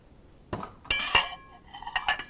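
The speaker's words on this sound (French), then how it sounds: "Elle lavait la vaisselle et moi j'essuyais." Dishes and cutlery clink in a kitchen during washing up after a meal: several sharp, close clinks and rattles in irregular bursts, with no voices.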